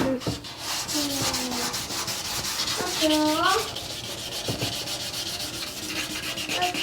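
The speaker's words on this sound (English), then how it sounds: "this is 1000 grit sandpaper" Hand sanding rust off a Honda CB450 Black Bomber motorcycle with 1000 grit sandpaper gives a steady, close scratchy rubbing in quick back-and-forth strokes, with a few faint squeaky tones mixed in and no talking.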